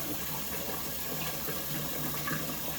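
Tap water runs steadily and faintly over soaked chickpeas being rinsed in a kitchen, a soft continuous hiss with no speech.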